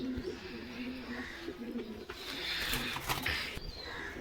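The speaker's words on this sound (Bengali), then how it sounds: "এই যে আমার খুব পছন্দের এক জোড়া পায়রা, এই কাকারই পায়রা" Pigeons coo repeatedly in a pigeon loft at close range, soft low throaty calls with faint chirps and rustling around them.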